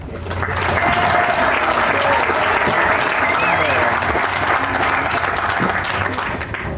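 Audience applause at an employee recognition ceremony for a company's 100th anniversary, steady clapping from a full room sustained for about seven seconds with no speech over it.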